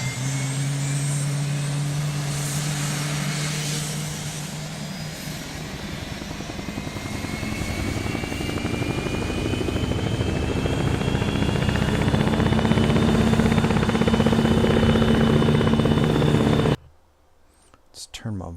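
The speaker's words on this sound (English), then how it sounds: "The helicopter's taken off." A military helicopter takes off in ARMA 3, a steady loud rotor thump and turbine whine rising in pitch as it lifts, cutting out abruptly near the end, with a voice speaking faintly underneath.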